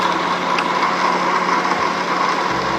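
A spaceship engine in a video game runs as a dense, steady mechanical hum and whine that stays constant and loud throughout, with no voices.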